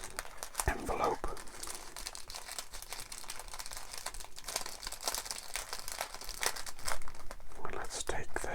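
A plain paper envelope crinkles and crackles close up as it is handled and opened, with soft rustling bursts over several seconds and a quiet voice murmuring faintly underneath.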